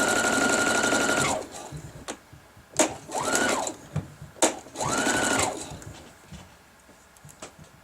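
Sewing machine stitching quilt rows: several bursts of steady rapid mechanical whirring, close and loud, separated by brief pauses and clicks as the fabric is adjusted, no talking.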